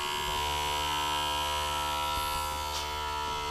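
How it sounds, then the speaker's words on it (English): A small electric fuel pump on an RC nitrous spray setup runs with a steady, close, high-pitched electric buzz and a few faint clicks, no voices. "then you hear the pump making noises"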